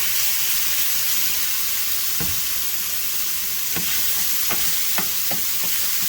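Tomato paste frying in a pan with creamy penne, Italian sausage and shrimp, giving a steady loud sizzle with a few scraping stirs of a spoon through it, no voices.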